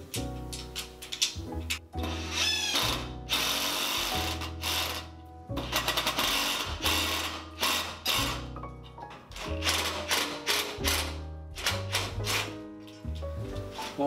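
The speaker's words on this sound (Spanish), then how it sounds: "Primero voy a atornillar esta." A power screwdriver drives screws into a part during a garage door installation in a workshop, sounding as loud bursts of high whirring with pauses between, repeated many times at close range.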